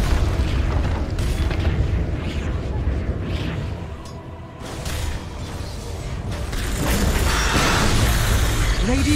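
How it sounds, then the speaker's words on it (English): A Dota 2 tower under attack and destroyed: heavy booming impacts and crumbling, shattering debris with whooshes, loud and continuous over battle noise, with a voice speaking. "Radiant's middle tower has fallen."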